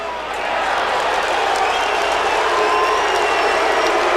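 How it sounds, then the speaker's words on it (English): A college football stadium crowd at a 2002 Oklahoma Sooners vs Tulsa game roars and cheers steadily, a loud, wide wash of voices that swells after the first half-second and holds. "Really interesting to hear the mixture of the crowd here"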